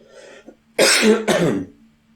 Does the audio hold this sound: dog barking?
no